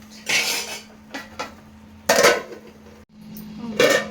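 A spoon stirs vegetable jowar upma with capsicum, tomato, potato and carrot in a metal pot, giving three bursts of scraping and clattering separated by quiet pauses, close and fairly loud.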